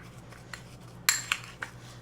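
A spoon clinks and scrapes against a bowl while something is mixed for a microwave recipe, with a few sharp metallic taps spaced apart over a quiet background.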